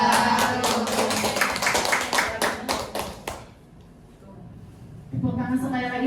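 Audience applause, a loud burst of clapping from many hands that fades out, then a short quieter lull before a voice speaks over renewed background noise.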